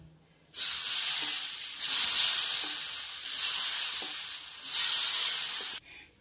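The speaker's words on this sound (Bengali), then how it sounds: "এবার আমি ছিটা রুটির গোলাটা ছিটিয়ে দেবো আবার।" Rice flour batter for chita roti, sprinkled onto a hot, lightly oiled pan, sizzles loudly in four successive hissing bursts, each swelling and fading, before stopping at the end.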